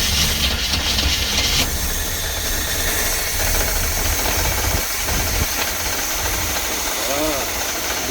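A small engine cranks and struggles to start, rough chugging and knocking with hiss, loud and close, then sputtering near the end without catching.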